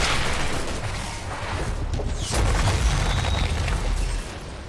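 Explosion in the video game Outriders: a sustained, rumbling blast with heavy low-end roar and debris noise. It stays loud and dense throughout, swells slightly midway, then tails off at the end.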